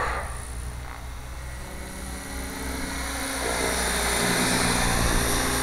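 A Gaui radio-controlled model helicopter flies inverted practice in calm, windless air, its rotor and motor making a steady, loud whirring buzz that rises slightly in intensity toward the end, with no voices.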